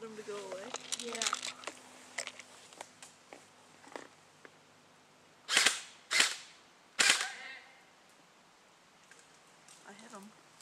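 Three sharp airsoft gun shots crack out close by in an outdoor night battle, each with a short decaying tail, following a stretch of quiet chatter and small rustles.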